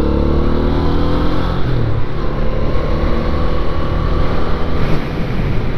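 A 1983 Honda Ascot motorcycle being ridden, its engine droning steadily and loud throughout with strong wind rush over it and no speech.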